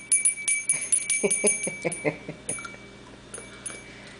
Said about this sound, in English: Guess I'll be listening to that bell all day today.